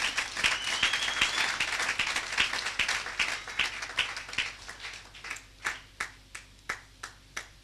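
A church congregation applauding in acclaim of Jesus: dense, lively clapping from many hands thins out midway into a slower run of sharp, evenly spaced single claps that gradually fade.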